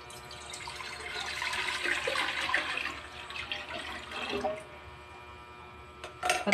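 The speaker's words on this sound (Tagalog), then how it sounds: "At yung tubig na nasa pitsil, isinalin ko dito." Water is poured from a pitcher into a container in a home kitchen while orange gulaman is being prepared. A close, continuous splashing pour lasts several seconds, eases off, and is followed by a brief final splash.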